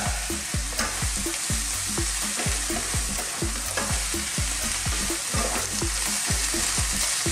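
A potato, spinach and mushroom filling is stirred together in a bowl, with a quick rhythm of repeated scraping and knocking strokes over a constant background hiss.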